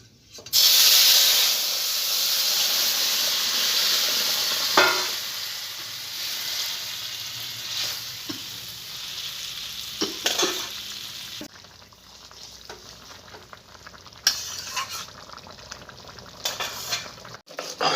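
A loud sizzle bursts as rohu fish curry hits the hot pan with fried cumin, then settles into a softer bubbling fry with spoon scrapes and clinks.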